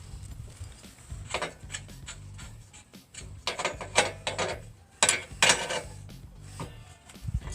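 Metal clicks and ratcheting taps as a leveling bolt is turned on a Woodland Mills HM130MAX sawmill track. The clicks come in short, uneven clusters, close and moderately quiet, with no talk over them.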